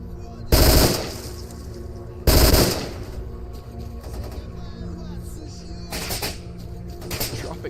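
Gunfire in the video game Stalker: Clear Sky: two loud, sharp bursts early on, then quieter scattered shots and rattling later, with a faint game ambience between them.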